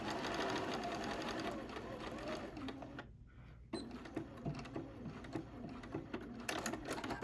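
Continuous close whirring of a sewing machine stitching hexagon pincushion petals together, with a brief pause midway before the stitching resumes; faint talk sits underneath.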